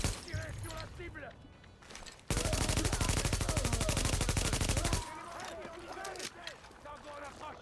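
A long, rapid burst of automatic gunfire from the video game The Division rattles loudly for a few seconds, with voices talking before and after it.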